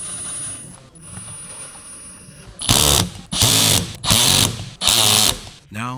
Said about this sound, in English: Use the screwdriver gun with the 5 millimeter hex bit.